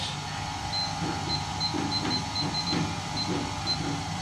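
An electric stand mixer kneads bread dough, giving a steady, close mechanical whir with faint regular ticking and a rhythmic churning pulse underneath, running continuously with no talking.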